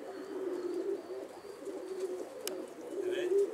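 Soft, continuous cooing of tumbler pigeons murmurs low and steady, with a faint click and a few higher chirps near the end.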